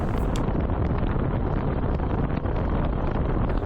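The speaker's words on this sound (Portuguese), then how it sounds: "o vento entrando entre os prédios" Wind blows steadily between city buildings, a dense continuous roar with mic buffeting, loud and unbroken, with no voices.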